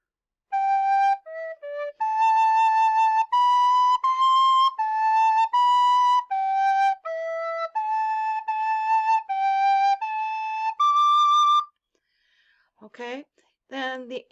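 A recorder plays a short composed melody of clear, sustained pure tones stepping up and down, solo and close, followed by brief speech.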